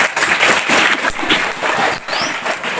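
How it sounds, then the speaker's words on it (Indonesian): Applause from the congregation at a Maulid Nabi religious gathering, a dense, steady wash of many hands clapping at moderate loudness for nearly three seconds, with no speech over it. "Tepuk tangan untuk semuanya."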